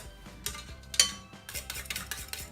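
Ingredients for a raspberry, lychee, lime and basil charlotte being mixed in a bowl, with soft scraping and a few light clinks of a utensil against the dish, fairly quiet and irregular.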